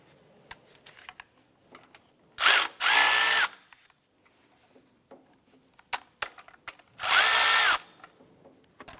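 Two bursts from a powered tool loosening a timing belt bolt on a 2001–2005 Honda Civic, each a loud whirring spin of about a second, separated by quieter clicks and handling noises nearby.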